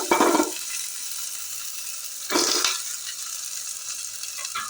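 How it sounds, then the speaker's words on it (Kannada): Chopped onion and green chili fry in very hot oil as a steady broadband sizzle, with two louder bursts of spattering as the pieces are stirred, one at the start and one midway, and no talk. "ಈಗ ಇದಕ್ಕೆ ಹೆಚ್ಚಿಟ್ಕೊಂಡಿದ್ದು ಉಳ್ಳಾಗಡ್ಡಿ ಮೆಣಸಿನ್ಕಾಯಿ ಹಾಕಿ ಒಂಚೂರು ಫ್ರೈ ಮಾಡ್ಕೊತೇವೆ"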